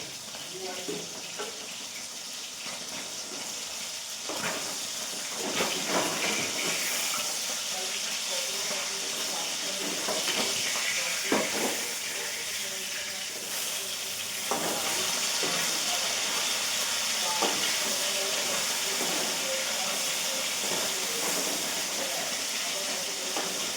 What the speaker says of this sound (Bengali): তেলটা না বেশি একটা গরম হয়নি, মাছটা দিয়ে দিয়েছি।